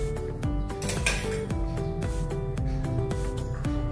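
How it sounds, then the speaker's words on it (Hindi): A metal spoon scraping and clinking against a pan while adding ghee, with repeated sharp metallic taps and rattles in an uneven rhythm, close and fairly loud. "एक चम्मच से मैंने 1 चम्मच घी डाला है।"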